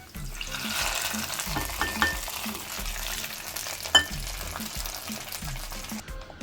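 Fried tempering poured into sweet pongal sizzles and crackles steadily, with stirring scrapes and a brief clink of a pan near the middle, close and moderately loud.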